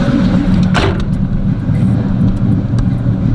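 Box Chevy V8 idling loudly up close with an aggressive chopping cam, a thick, lumpy rumble that stays steady throughout, with a brief sharper burst early on.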